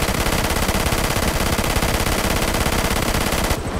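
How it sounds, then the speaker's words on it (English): Machine gun firing in the video game GTA 5: rapid, unbroken automatic fire, very loud and close, a rattling stream of shots that cuts off just before the end, with no talk. "what about the machine gun? Woo! Oh my gosh, man. As soon as I start shooting at it,"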